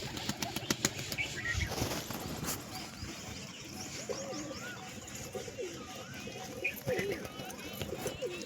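Pigeons gathered where they come down to drink, with a burst of wing flapping near the start followed by soft, repeated cooing calls over a steady background murmur.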